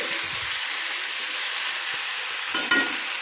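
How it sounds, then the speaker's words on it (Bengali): Mixed vegetables for a fish-head curry frying in a pan as they are stirred, a steady close sizzle and hiss with soft scraping of the spoon, no voices. "সবজিগুলো দিয়ে আমি আবারও একটু নেড়ে নিলাম।"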